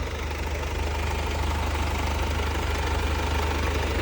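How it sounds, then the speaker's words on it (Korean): A Mercedes-Benz C-Class C220d diesel engine idles steadily with the hood open, a low, continuous rumble and faint rhythmic knocking, heard up close with no voices. "엔진 룸을 열어도 많이 시끄러운 느낌은 안 받거든요"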